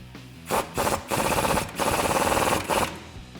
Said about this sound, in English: Now I'm going to grab my 19 socket and my swivel and tighten up the upper control arm.